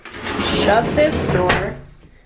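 An elevator door inside a house slides shut with a short wooden rumble and a clunk close by, and someone is talking over it.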